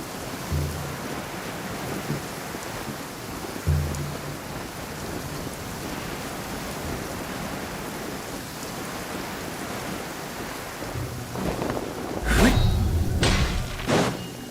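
Steady rain pours throughout in Genshin Impact, with several loud, close thunder cracks near the end and a few duller rumbles earlier.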